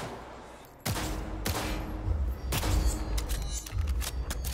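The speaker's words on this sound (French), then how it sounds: "Je vais essayer de tirer sans viser, peut-être." Gunshots in Cyberpunk 2077 during target shooting, several loud, close blasts at uneven intervals, each with a heavy booming tail, followed by quicker lighter pops near the end.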